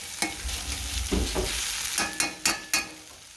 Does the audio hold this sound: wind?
no